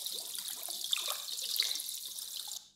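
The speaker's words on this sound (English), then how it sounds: "I've used my acid pull loop," A looping game sound effect of an acid pool bubbling, a short hissing, fizzing wash of liquid with small pops, fairly faint and cutting off abruptly.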